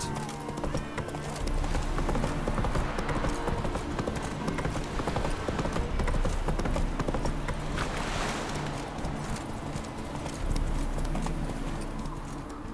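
Hooves of a horse clip-clopping steadily as it trots through The Witcher 3: Wild Hunt, a continuous loud rhythmic gait blended with dense game sound, with a brief whinny-like note along the way.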